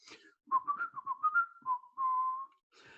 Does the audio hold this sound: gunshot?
no